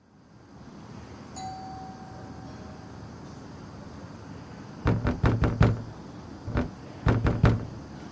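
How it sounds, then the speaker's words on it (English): Knuckles rap on a red house door in three clusters of quick firm knocks, close and sharp, following a faint ding over a low ambient hum. "After the third knock, the red door opened"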